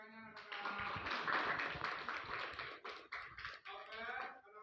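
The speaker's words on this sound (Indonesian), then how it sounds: "tepuk tangannya anak-anak" Children in a classroom clap together, a dense burst of many small hands that starts abruptly, holds steady and loud for several seconds, then thins into a few scattered claps near the end, with voices audible underneath.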